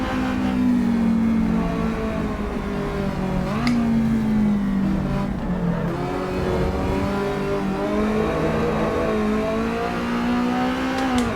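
An Alfa Romeo race car engine in Assetto Corsa Evo drones loudly and steadily, rising and dipping in pitch through gear changes and throttle shifts, with no voices.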